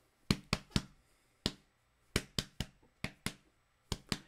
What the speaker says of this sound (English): So like they're clapping, but there's two different foot rhythms if you listen.